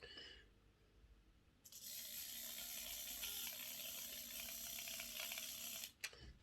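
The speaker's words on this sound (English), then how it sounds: "I really want to test this motor actually before I put the wheels on" A small electric motor from a Dapol Class N2 model locomotive runs on test with its wheels off. After a faint start it whirs steadily with a high, buzzy whine for about four seconds, then stops abruptly with a click.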